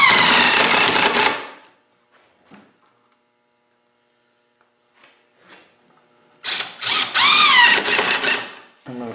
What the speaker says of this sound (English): Go ahead and use 3-inch screws to fasten it to